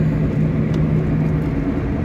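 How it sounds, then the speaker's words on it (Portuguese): Steady road traffic near a bus station on a drive from Maceió toward Palmeira dos Índios, a continuous loud broadband engine and tyre rumble of fast-moving cars with no break or talk. "Os carros estão passando com mais de mil aqui"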